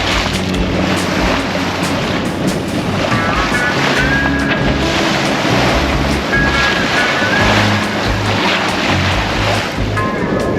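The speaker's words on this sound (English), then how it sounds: "Engine off. and we're sailing." A sailboat under sail with the engine off runs through waves in about 15 knots of wind, with continuous rushing water and wind buffeting the microphone, the hull splashing steadily throughout.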